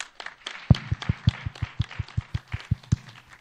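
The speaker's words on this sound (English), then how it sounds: "a round of applause for us all" A conference audience closing a session on Bangladesh's economic growth breaks into a round of applause, with steady, evenly spaced claps ringing out in a moderately loud burst that holds for a few seconds.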